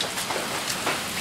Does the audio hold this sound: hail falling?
yes